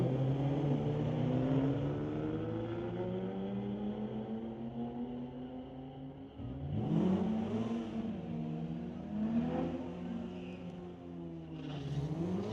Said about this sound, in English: Here is Danny Long, 2004 Dodge Neon. Going against a BMW M5.